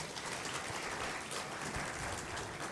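Church congregation clapping at an Easter service, a steady broadband wash of many hands held at moderate, somewhat distant level with no talk over it.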